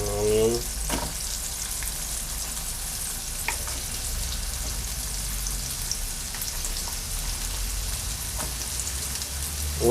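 Onion sizzles and crackles steadily in melted butter in a pan over medium-high heat, a dense even frying hiss running the whole time with a few faint clinks near the start and no voices.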